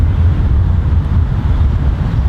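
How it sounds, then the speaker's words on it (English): Strong outdoor wind buffeting a microphone on a golf practice area, a loud, continuous low rumble with gusty fluctuations throughout, no voices. "Look, it's so windy, it almost blew the microphone over."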